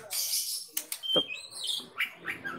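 Short, high-pitched chirps and tweets from a young Muda Hutan songbird come in quick, irregular bursts, close by and moderately loud against a faint background.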